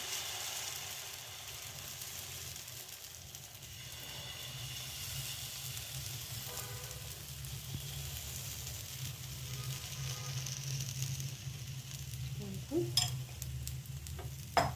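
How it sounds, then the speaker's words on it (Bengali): Semolina pancake batter is spread thinly in a pan over low heat, giving a faint, steady sizzle and soft scraping, with a few sharper spatula taps near the end. "এই ব্যাটারটা এবার এরকমভাবে স্প্রেড করে দেবেন, অল্প অল্প নিয়ে"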